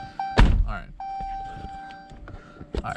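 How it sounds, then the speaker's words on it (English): A 2016 Dodge Challenger SRT Hellcat door shuts with a single solid thunk, followed by faint chimes and interior beeps as someone talks nearby. "Let me close the door so it doesn't make the noise."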